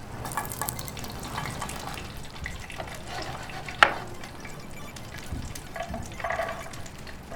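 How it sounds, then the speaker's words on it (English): Pepper and half an onion sauté in hot oil in a pan, a steady close sizzle with stirring scrapes throughout and one sharp clack near the middle. "Now go ahead and saute the whole pepper and half an onion for about 5 minutes"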